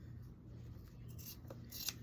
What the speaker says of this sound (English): cut these off and cut the top half off